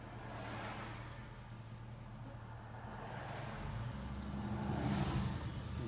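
A 1964 AMC Rambler Classic 770 two-door hardtop with an automatic transmission cruises along a winding road, its engine humming steadily from inside the cabin and rising gradually as it shifts up through the gears.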